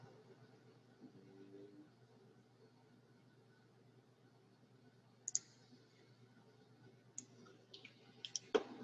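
A computer mouse clicking at a desk, several sharp isolated clicks in the later seconds over a low steady hum, quiet and close.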